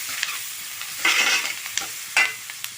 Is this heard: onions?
yes